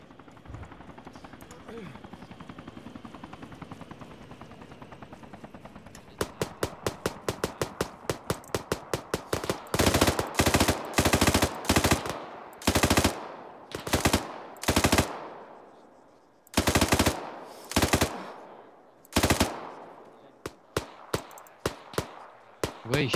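Automatic gunfire in the video game Arma 3: rapid, loud bursts of shots crack out again and again, with a helicopter-like drone underneath, while voices talk faintly between the volleys.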